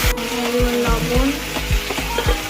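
Spice masala of ginger, cumin, chilli, tomato paste, softened onion, salt and turmeric sautéing in a pan for boal fish curry, a close, loud sizzle with rhythmic scraping stirs and low thumps.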